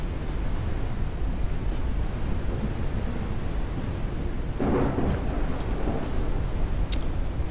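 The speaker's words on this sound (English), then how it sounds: "Sounds like the storm is starting to let up." A thunderstorm in the survival video game Forever Skies, with steady rain-like hiss and low rumble throughout and a brief swell of thunder midway, played alone with no talk.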